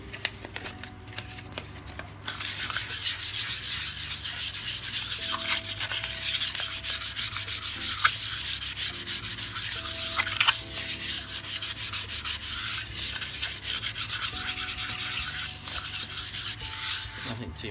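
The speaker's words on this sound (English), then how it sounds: "I give this a little bit of a light rub down" Light hand sanding of a wood-turning piece, most likely on the lathe, gives a steady dry rubbing hiss that runs continuously at close range for most of the clip. No voices are heard.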